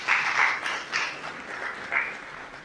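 Scattered applause at an evening ceremony honoring top baccalaureate graduates in Bargny greets a speaker from the media library, a few uneven bursts of clapping that swell and fade over a couple of seconds.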